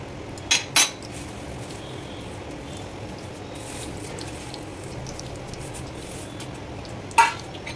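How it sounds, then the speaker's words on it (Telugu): Vermicelli being stirred into boiled milk in a pot for shir khurma, a quiet soft churning background broken by a couple of sharp metal spoon clinks at the start and another near the end. "సేమియా వేసుకొని బాగా కలుపుకోవాలి."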